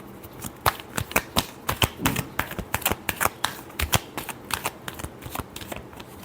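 A deck of tarot cards being shuffled close by, a rapid series of crisp riffling snaps and flutters repeating across the whole stretch, with no talking.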